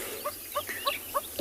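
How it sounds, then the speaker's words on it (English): A lilac-breasted roller gives a short series of harsh, raspy calls, five or six quick squawks spaced evenly, moderately loud against a quiet outdoor morning background in South Africa. "And that is the sound of the lilac-breasted roller."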